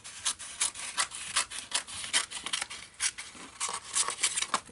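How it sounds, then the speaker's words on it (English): Scissors cutting through transfer paper for an etched glass bottle, a quick series of close, crisp snipping strokes in an uneven rhythm, with no voices. "I'm going to do it with scissors"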